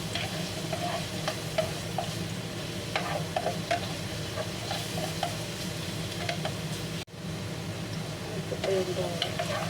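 Garlic sizzles in a hot pan, a steady crackling fry with occasional stirring scrapes, loud and close, briefly dipping for a moment before resuming.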